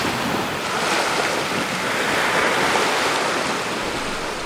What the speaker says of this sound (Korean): 파도 소리에 묻혀서 안 들려.